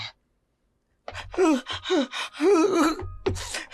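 Heavy, out-of-breath panting on a dark street, with voiced gasps and groaning breaths in quick succession, loud and close after a second of silence, and no other voices.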